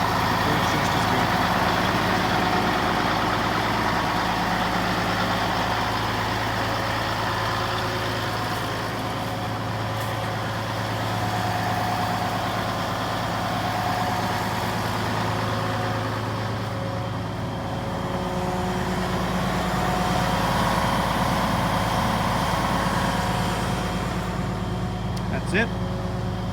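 A Case 2870 tractor fitted with an aftermarket muffler idles steadily, a loud, continuous low engine rumble with a faint beep near the end, under someone speaking at times.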